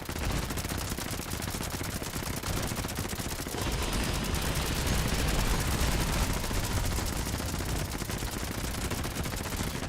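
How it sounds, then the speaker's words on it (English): SMG hip-fire in Fallout 76: long, rapid automatic bursts of gunfire, close and loud, rattling almost continuously across the whole stretch. "SMG is a lot more stable for just hip fire than it used to be"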